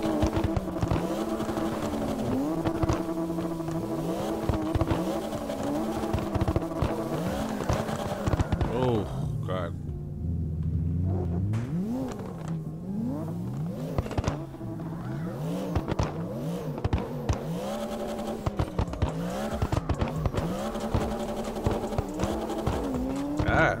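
A drifting car in the CarX Drift Online racing game revs and wails through continuous engine sweeps, with long tire squeals throughout, while a voice talks over the loud game audio.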